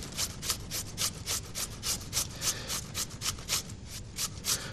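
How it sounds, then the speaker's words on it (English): A cucumber rubbed against a grater in a kitchen, a steady run of rhythmic scraping strokes about three per second, close and fairly loud with no talking. "I'm just going to then grate a cucumber."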